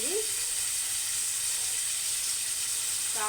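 Turmeric-and-salt-washed prawns sizzle in a hot pan, a steady bright hiss of frying that holds evenly throughout, close and fairly soft.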